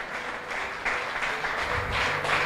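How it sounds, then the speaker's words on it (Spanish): Church congregation applauding during a sermon, a broad wash of many hands clapping with a steady, slightly rising intensity over a few seconds, no voices on top. "Dale un fuerte aplauso"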